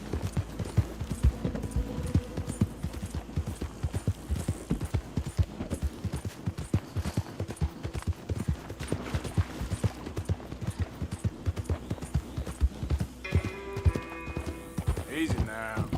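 A horse gallops in Red Dead Redemption II, with rapid, loud hoofbeats pounding in a steady rhythm throughout and a brief whinny near the end.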